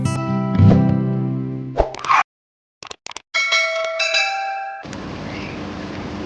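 A notification bell sound effect rings out in a series of bright, clear chimes with short gaps between them, loud and close, following a musical passage and ending under a soft background wash.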